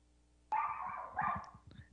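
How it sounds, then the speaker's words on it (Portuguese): Small female dog barking indoors during a live Brazilian morning radio broadcast, a quick run of sharp yips and a short whimpering bark, fairly close and alone without speech. "desculpa aí se os ouvintes ouvirem um cachorro latindo, é a minha cachorrinha aqui"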